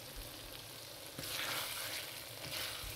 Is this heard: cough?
no